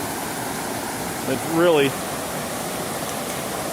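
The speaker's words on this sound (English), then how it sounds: "Here's another rapid we decided to carry around." Whitewater rapid on the Upper Red River rushing past a rock shelf, a constant close roar of churning water, with a person briefly speaking over it midway.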